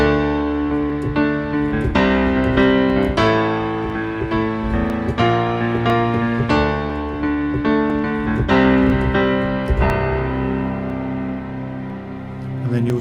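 Solo electronic keyboard plays the bridge of a song, with steady chords and a melody line sounding up close and alone, phrased in regular bar-length changes.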